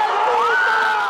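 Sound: crowd of election supporters cheering

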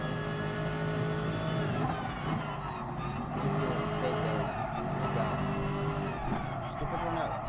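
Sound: race car accelerating, video game Gran Turismo Sport

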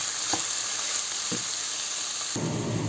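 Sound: sautéing red and green peppers in a pan, stirring

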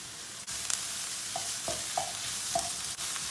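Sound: peppers frying in a pan

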